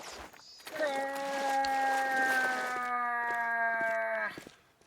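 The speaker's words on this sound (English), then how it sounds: "the moose sound like that, but the moose caller sounds like this." A moose caller in a hunting video game sounds one long, sustained, tonal bellow that stays steady for several seconds and then stops abruptly, with faint background noise before and after.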